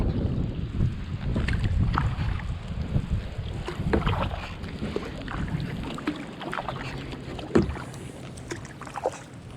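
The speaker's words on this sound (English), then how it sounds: "Gust of wind almost took the paddle out of my hand." Wind buffets the microphone in a steady low rumble over Slocum Creek in Havelock, North Carolina, with faint paddle splashes and kayak knocks scattered throughout.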